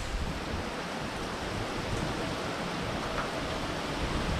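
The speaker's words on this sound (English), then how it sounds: "And the rain is coming on down." Steady rain pours down in a storm, a dense and even hiss that stays close and unbroken throughout.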